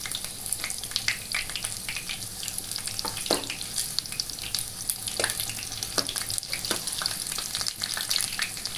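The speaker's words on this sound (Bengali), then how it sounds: "আর এখন আঁচটা একটু আমরা বাড়িয়ে দেব এটাকে আর একটু ভালো করে ভাজার জন্য।" Chicken pakoda fries in hot oil, a steady busy sizzle with scattered sharp crackles and pops running continuously and close.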